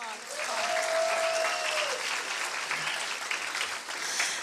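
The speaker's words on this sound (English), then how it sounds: "So please give these teachers a big round of applause." Sustained applause and cheering from a graduation audience in a school hall, a loud, continuous wash of clapping with voices calling out and whistling within it.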